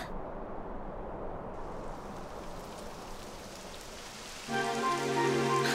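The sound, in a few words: rain falling in video game Dragon Quest XI S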